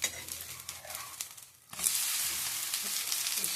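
Butter-cooked high-protein dosa sizzling on a pan, a close crackling sizzle that dips briefly partway and then returns as a louder, steady hiss.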